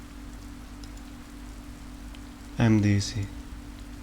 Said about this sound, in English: I can hear the sound of the rain in the distance.